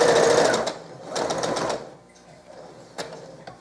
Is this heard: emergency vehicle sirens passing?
no